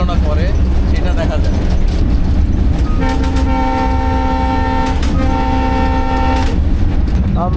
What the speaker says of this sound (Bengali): আমরা চলে এসেছি মনমতপুর স্টেশনের কাছাকাছি, এজন্য ট্রেনের গতি কমিয়ে ফেলা হয়েছে